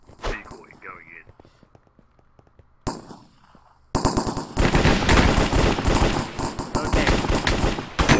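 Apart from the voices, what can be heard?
gunfire from a Minecraft video game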